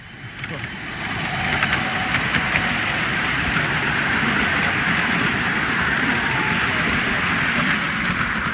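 Miniature railway locomotives, a Western and a Warship working top and tail at Coate Water, Swindon, give a steady loud rumble and hiss that builds after the first second and holds on continuously, close by.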